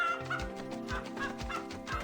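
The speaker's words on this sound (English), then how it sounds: "A rebellious chicken makes a break for freedom." A chicken in the Choices: Stories You Play game clucks and squawks in a quick run of close, loud calls over a sustained musical background, with no speech.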